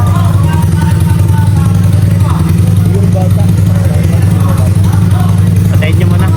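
A motorcycle fitted with a replaced loud exhaust idles nearby, a strong, steady low burble under constant, animated conversation.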